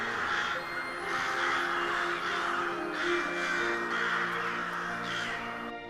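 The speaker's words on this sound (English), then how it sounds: "A whirling storm of beating wings and shrieking caws" A flock of crows cawing as a sound effect, harsh repeated calls overlapping in a dense, steady rhythm over constant background noise for the whole stretch.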